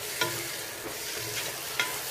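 Broken wheat roasting in ghee in a pan for payasam, a soft continuous sizzle with a few light scraping stirs of a spoon, quiet and close.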